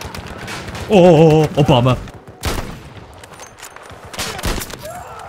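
Rapid gunfire bursts and sharp shots ring out in a war video game, close and loud, alongside a warbling musical tone and people talking over the action.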